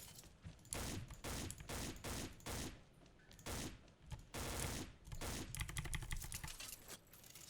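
Suzaku gun in the shooter MAT China firing single rounds in quick, steady succession, a long rattling string of clipped shots with brief pauses, fairly close and without talk.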